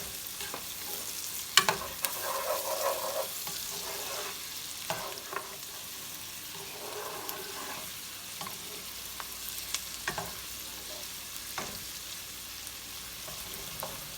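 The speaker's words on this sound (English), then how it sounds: "The bacon, the onion, and garlic have been sauteing for a few minutes." Bacon, onion and garlic sauté in a pan for charro beans, a steady soft sizzle broken by scattered clicks and scrapes of stirring, fairly quiet and with no voices.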